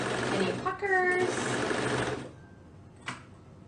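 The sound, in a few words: sewing machine stitching three layers of fabric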